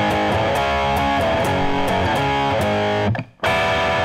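Distorted electric guitar plays an intro riff, loud and continuous with repeated chord strums, briefly cutting out before ringing back in.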